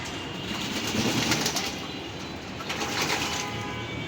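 Racing pigeons bathing in water, a steady wet splashing and fluttering wash with soft bird coos, close and continuous at moderate level.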